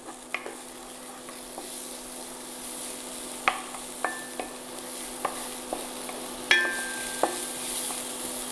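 Finely chopped white onion sizzles steadily in a small amount of oil for a chicken asparagus soup, with a spoon scraping and clinking against the pan at intervals close by and no talking.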